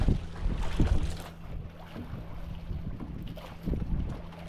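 Strong wind blows outdoors beside fast-flowing water, a steady low rumble and hum with gusty buffets striking the microphone, loudest in bursts near the start and end, with no talk.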